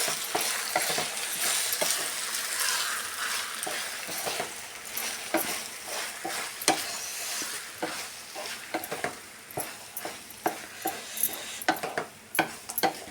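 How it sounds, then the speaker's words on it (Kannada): Shavige bath vermicelli being stirred and mixed in a pan, with a soft frying sizzle under repeated scraping and clinking strokes of a utensil, close and moderately loud. "ನೋಡಿ, ಈ ಥರ ಚೆನ್ನಾಗಿ ಮಿಕ್ಸ್ ಮಾಡ್ಕೊಳ್ಳೋಣ."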